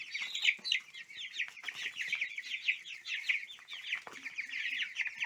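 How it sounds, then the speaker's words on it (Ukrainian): Cobb 500 broiler chickens cluster over their feed, a busy overlapping chorus of close, rapid clucks and chirps that rises and falls continuously while the birds eat. "Бачите, вони на цей корм налітають і їдять його просто шикардос."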